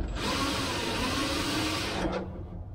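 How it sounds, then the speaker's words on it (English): A power drill bores a hole, a loud steady whirring motor running for about two seconds before winding down, heard close and alone. "now I can get in here and drill a couple of holes"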